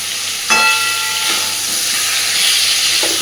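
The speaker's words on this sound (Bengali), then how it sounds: "খুব ভালোভাবে কুমড়ো আর আলুটা ভেজে নেব" Pumpkin and potato pieces fry in a pan, giving a loud continuous hissing sizzle that starts with a sharp clatter and stays steady up close with no talk.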